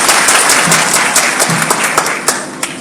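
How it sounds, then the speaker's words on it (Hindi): Loud applause from a political rally crowd at an assembly-constituency public meeting, dense steady clapping with sharper individual claps standing out, continuous and close throughout with no speech. "एक बार जोरदार ताली बजा के संचालक महोदय जी का स्वागत कर दीजिए।"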